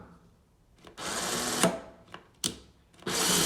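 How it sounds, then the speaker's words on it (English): A cordless Bosch Exact ION screwdriver runs down on a torque calibration unit in several short whirring bursts, the longest under a second, close and sharp with quiet gaps between. "Slide the battery in your tool and run down the tool on the calibration unit to see the current torque."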